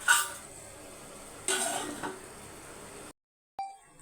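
A lid is set on a pot of Sankara fish curry with a metallic clank over a steady background sizzle from the stove, and the sound cuts out briefly near the end.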